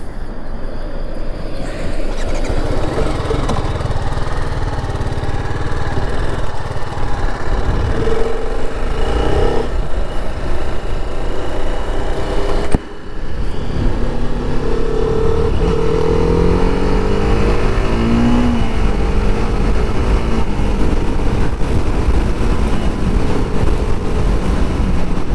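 A 2025 TVS Apache RR 310 motorcycle engine drones steadily and close up during a ride, with a constant roar and rushing wind. Pitch shifts slightly as the bike changes speed.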